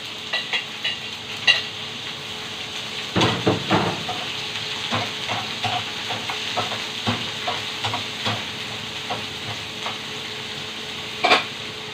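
Steady sizzling of onions frying in a pan, with scattered clicks and scrapes of stirring throughout; no voices.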